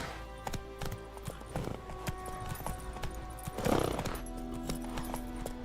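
Roach the horse in The Witcher 3 video game trots with rhythmic clip-clopping hooves and gives a short whinny, moderately loud over faint game background.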